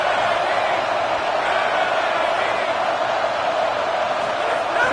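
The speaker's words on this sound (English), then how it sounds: "the crowd's giving them some juice" A packed football stadium crowd at an LSU versus Auburn game roars and cheers steadily near the goal line. The sound is a loud, unbroken wash of voices throughout.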